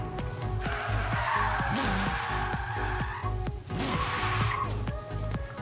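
Engine roar and tire noise from a Toyota Supra RZ tuned to 995 hp making a quarter-mile drag launch in Forza Horizon 3, a loud sustained rev with a brief dip near the middle, no talk.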